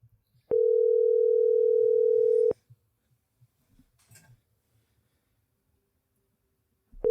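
Phone ringback tone: a steady two-second electronic burr, then quiet with faint rustling and a short breathy noise, and the next ring just starting at the end, close and clear with no talking.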